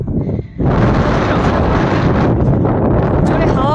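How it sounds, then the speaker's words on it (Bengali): Strong, cold wind sweeps across Kunzum Pass, a snowy mountain pass with cars parked nearby. It buffets the microphone as a loud, continuous roar, with no words spoken. "জোরে হাওয়া দিচ্ছে ঠান্ডা"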